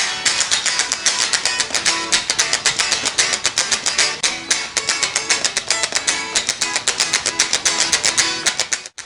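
Thin, bright strumming of an unamplified electric guitar, quick and rhythmic, played continuously and close up with no voices.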